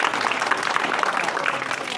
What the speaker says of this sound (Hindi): एक बार जोरदार ताली बजाई जाए